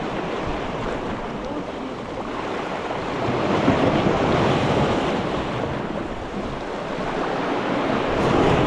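Sea waves wash and surge steadily at a windy shoreline during a fishing outing, a continuous broad roar that swells and eases with gusts of wind buffeting the microphone.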